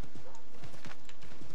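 Horse hooves clip-clop in a quick, even rhythm in the Assassin's Creed III video game, loud and steady across the whole moment with no voice over them.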